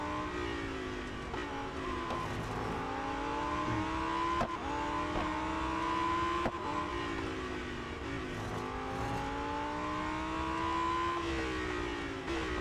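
Lamborghini Huracan STO racing engine in the game Real Racing 3 on a final lap, a steady high-revving drone with repeated rising gear-change sweeps, loud and continuous with no talk.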